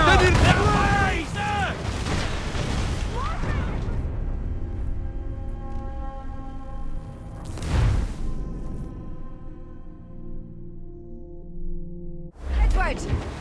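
Ship cannons firing in the pirate game Assassin's Creed Black Flag, heavy booms with ringing music and shouted crew orders, one blast near the middle and another at the end.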